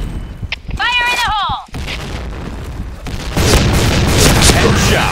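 A grenade blasts in a zombie-slaying first-person shooter, a loud booming burst with rumbling gunfire-like crackle continuing after, while game voices call out over the action.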